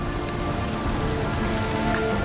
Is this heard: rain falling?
yes